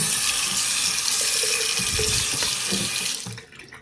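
A faucet pours water into a public restroom sink with hot and cold taps, a loud, close, steady gush that fades out as it is turned off at the end.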